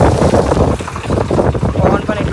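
Strong wind buffets the microphone in a loud, continuous roar with gusty surges and no pauses.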